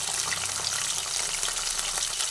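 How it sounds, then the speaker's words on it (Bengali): Capsicum fries in a pan over a raised gas flame, giving a steady, dense sizzling hiss with no pauses or talk. "ক্যাপসিকাম ভেজে নিচ্ছি"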